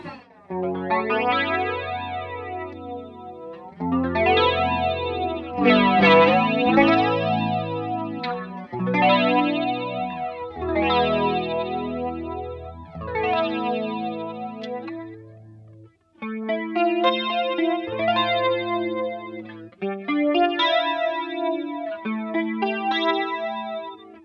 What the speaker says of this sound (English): it sounds all but identical, and it's just that sound